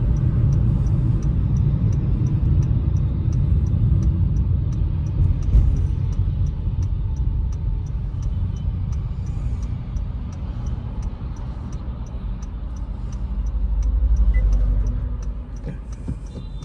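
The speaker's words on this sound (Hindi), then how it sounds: "अब हम इसको एक बार ही रोक के और फिर से अग्रेसिवली लॉन्च करके देखते हैं कि इसका क्या रिस्पॉन्स आएगा।" Honda City fourth-generation sedan pulling away hard, its engine a steady loud low rumble with a faint regular ticking above, swelling briefly near the end, with no talk.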